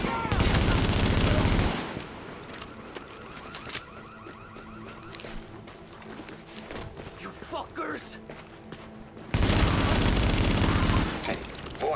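Gunfire in the video game The Division, loud bursts of rapid automatic shots at the start and end with quieter scattered fire between, while a voice talks in the middle.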